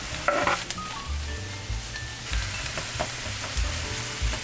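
Onions and garlic frying in oil in a pan with salt, a close sizzle and crackle punctuated by scraping stirs and clinks of a utensil against the pan.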